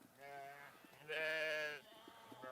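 Sheep on a ranch bleat in two sustained, wavering calls, the second louder and fuller, with faint background noise between them.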